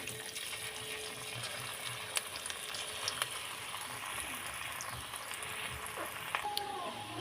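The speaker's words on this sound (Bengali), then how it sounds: "আমি এইভাবে ভেজে নেব" Egg and bread pakoras deep-fry in oil with a soft, continuous bubbling sizzle, quiet and steady throughout, with a few faint clicks.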